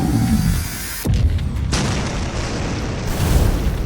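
A loud anime explosion rumbles continuously, and a sharp burst near the start swells into a sustained, roaring blast.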